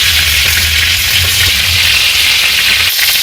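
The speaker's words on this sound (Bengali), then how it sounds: "আমাদের চিংড়ি কিন্তু লাল লাল হয়ে গেছে ভাজা" Prawns frying in a pan until red for a Bengali malai curry, producing a loud, continuous oily sizzle with faint stirring underneath and no talk.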